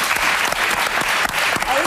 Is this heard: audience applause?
yes